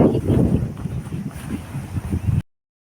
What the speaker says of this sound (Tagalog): Grabe ang hangin no.